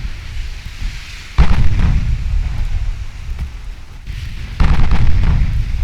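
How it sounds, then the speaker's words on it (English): Warship guns firing a broadside in the naval video game Ultimate Admiral Dreadnoughts, two heavy booming salvos a few seconds apart, each a deep loud blast rolling into a long low rumble. "Get broadside on. Try and get all the guns firing."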